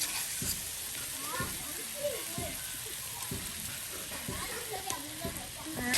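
Radish and bottle gourd peel frying in oil in a village kitchen, a steady sizzle with intermittent scraping and stirring clatter, while a voice talks over it.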